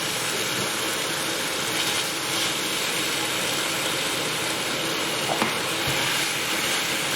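Beef sizzling and frying in a pan of chili sauce while being stirred, a dense, even crackle close by with occasional scraping, no voices over it.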